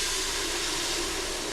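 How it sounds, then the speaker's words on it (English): Beer poured into a hot pan over beef shank drippings to deglaze it, giving a steady loud sizzling hiss that holds evenly throughout with no talk. "So I have my beer in there, and I am deglazing the bottom of that pan"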